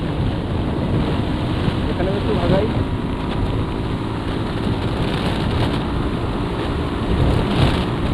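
Strong headwind buffeting the microphone of a fast-moving motorcycle on a solo long-distance ride, a loud continuous low rumble and roar with engine and road noise mixed in, and a voice briefly speaking over it.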